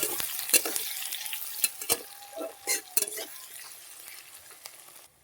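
Chopped onions frying in hot oil in a pan, a soft continuous sizzle broken by sharp clinks and scrapes of a spoon stirring against the pan, with a faint voice in the background.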